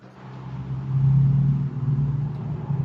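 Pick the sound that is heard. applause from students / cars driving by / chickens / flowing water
cars driving by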